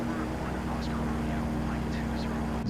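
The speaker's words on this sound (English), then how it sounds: "This is not a fighter jet, dude. It's a small passenger plane." In Microsoft Flight Simulator, a small passenger plane's engine drones steadily at a moderate level, with faint murmured voices partly masked beneath the hum.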